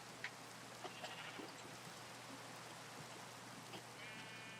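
Sheep bleat a few times in a video game, faint and short against a quiet background hiss, with no talking.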